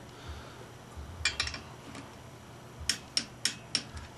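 Torque wrench clicking on clutch pressure plate bolts set to 18 foot-pounds on a Ford Cobra, a cluster of close clicks followed by four sharp, evenly spaced clicks, near and clear against a quiet background.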